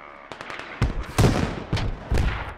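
Smoke mortar rounds land in the military shooter Squad, a rapid string of sharp thumping impacts and cracks, several close together, with crackling debris between them.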